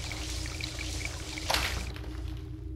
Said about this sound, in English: Looks like he's in the shower.